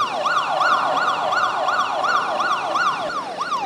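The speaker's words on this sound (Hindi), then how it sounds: "आपका कोई भी अगर मोबाइल लिया तो ऐसे सायरन देना लगेगा" A loud electronic phone anti-theft alarm siren wails up and down in a fast repeating sweep, cycling about twice a second without pause and with no talking.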